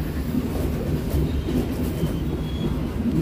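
A commuter train rumbles along steadily, with a continuous low roar of wheels on track and faint rattling of the carriages.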